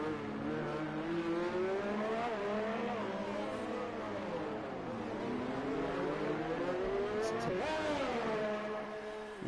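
An F1 2019 race car in a drift at turn 2 during an Austrian Grand Prix race: a loud continuous engine drone that rises and falls in pitch, with a sharp rev spike near the end and no talk.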